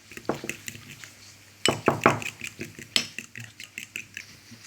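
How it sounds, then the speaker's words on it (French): Metal utensil clinking and scraping against a bowl while mixing ingredients with two tablespoons of oil for a quick burger dressing, a run of close, irregular clinks and stirring scrapes. "Et maintenant on va mélanger le tout."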